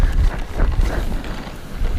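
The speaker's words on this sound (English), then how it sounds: "it's way too windy" Strong wind over an icy pond buffets the microphone in loud, gusty low rumbles that rise and fall throughout.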